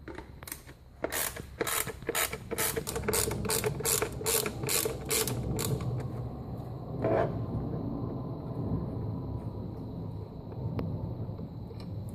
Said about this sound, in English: we're going to take our T25 Torx socket and we're going to actually remove the BMW mass airflow sensor